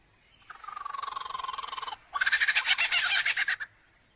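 An Australian lyrebird mimics a kookaburra, giving a close, clear series of rapid rhythmic chattering notes, then a brief pause and a louder, more raucous burst of cackling pulses that ends abruptly.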